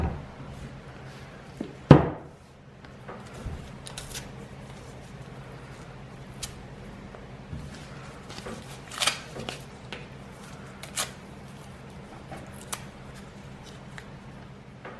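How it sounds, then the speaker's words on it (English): Cardboard being torn into tiny pieces makes one sharp rip near the start, followed by quieter intermittent tearing and rustling against a faint background hum. "So you can see I'm ripping it up in super tiny pieces, just like that."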